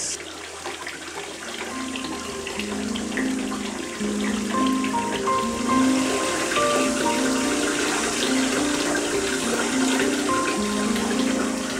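Water runs steadily into a bathtub, a constant close rushing hiss lasting throughout, with no voices over it.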